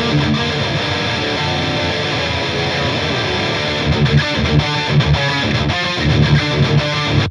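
Dense, heavily distorted electric guitar through an Emissary amp plugin, playing chugging chords and riffs, loud and continuous with a saturated, fuzzy amp tone.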